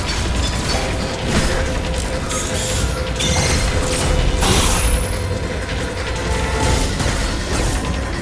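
Gunfire and weapon effects in the game Metroid Dread: dense, loud, continuous mechanical clanking and blasts layered over game music, with no pauses and no talk.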